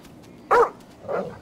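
Two dog barks in Grand Theft Auto V, a sharp loud bark followed half a second later by a softer, lower one, standing alone with no talk.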